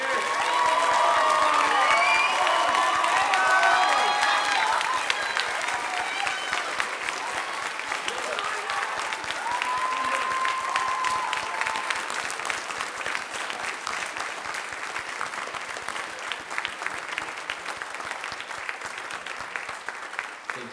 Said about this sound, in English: please give a huge round of applause for these spring singers